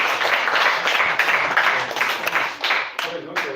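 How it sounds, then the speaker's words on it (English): A class at a holiday lesson and prize-giving day gives a round of applause, dense clapping that thins out toward the end as a voice starts speaking. "can you just appreciate me with a round of applause?"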